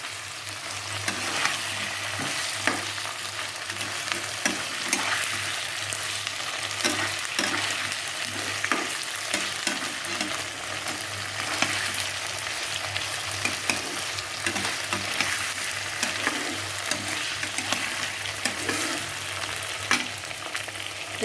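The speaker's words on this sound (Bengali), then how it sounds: "আদা জিরে বাটা দিয়ে একটু কষিয়ে" Ginger-cumin paste sautéing in a pan: a steady broadband sizzle runs throughout, dotted with scraping stir clicks at an irregular rhythm, close and fairly loud with no voices.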